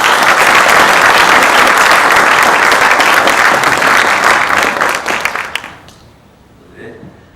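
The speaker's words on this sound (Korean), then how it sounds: "강사님을 큰 박수로 맞이해서 강연을 청해 듣겠습니다" A lecture hall audience welcomes a guest lecturer with loud, sustained applause that fills the room, then tapers off into near quiet with a few brief sounds afterward.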